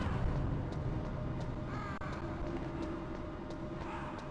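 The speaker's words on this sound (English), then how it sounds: "Guess you just better sit there and watch the crows." Crows cawing in the video game Metal Gear Solid, a few faint, distant calls over a steady low rumbling ambience, with no voices.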